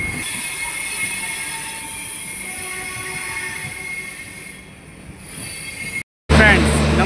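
The Kota Patna Express 13240 passenger train running along the tracks, a loud continuous rumble with high metallic wheel squeal, briefly cutting out before returning louder and rougher.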